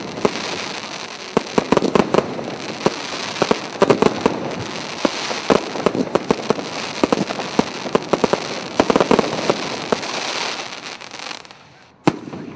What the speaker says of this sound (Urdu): وہیں خوبصورت آتش بازی کا جہاں مظاہرہ کیا گیا تھا